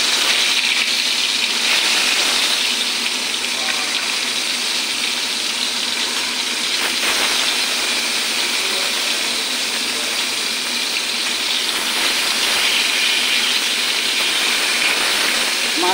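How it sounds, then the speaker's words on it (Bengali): Rohu fish head pieces frying in hot oil in a wok, a loud, steady hiss and sizzle that holds throughout, with a voice faint underneath. "এখন মাছটা একটা একটা করে ছেড়ে দেব।"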